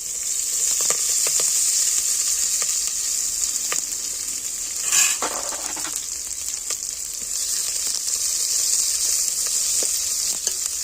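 Cumin and mustard seeds crackle and sizzle in hot oil for an Uttara Karnataka sajje sandige preparation, a steady bright frying hiss dotted with sharp pops and a brief louder burst midway, no voices.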